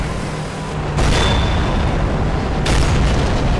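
Tank cannon fire in a tank battle video game: two loud, booming blasts about a second and a half apart, each followed by a dense rumbling tail, with no talk.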